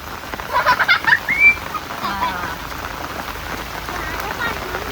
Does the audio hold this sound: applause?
no